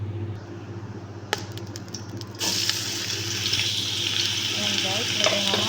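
Chopped onions sizzle in a hot pan while being stirred, a steady close frying hiss that grows fuller and brighter partway through, with occasional scrapes of the utensil.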